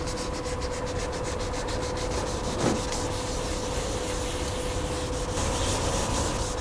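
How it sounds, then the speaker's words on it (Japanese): Wet sandpaper rubbing steadily across a yellowed, age-clouded plastic car headlight on a Chevrolet TrailBlazer, a continuous close gritty scrubbing with no voices. "耐水ペーパーでこうやって磨いて黄ばみを落とす"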